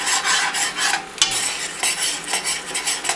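Maple garlic pork bubbles and caramelizes in a pan on a boat, with a bright, uneven hiss swelling and fading alongside utensil scrapes against the metal.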